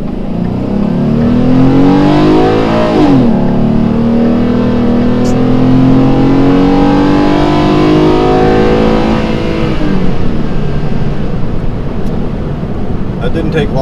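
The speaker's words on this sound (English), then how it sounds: "And now we're going up through the gears." A 2012 Ford F-150 with the 3.7 V6 accelerates hard and loud, its engine note rising and dropping sharply at each upshift through the gears.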